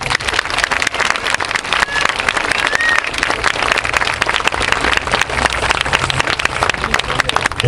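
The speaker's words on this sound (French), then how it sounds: "Faut les applaudir aussi" An audience applauds at a French-speaking gathering honouring a family, with sustained, dense clapping from many hands filling the room for several seconds, loud and even throughout.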